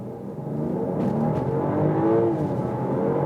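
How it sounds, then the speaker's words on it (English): A 2023 BMW X7 40i with a 3-liter inline six-cylinder engine accelerates hard from inside the cabin, its smooth engine note climbing steadily in pitch for a few seconds. "That's great sound here from the inline 6-cylinder."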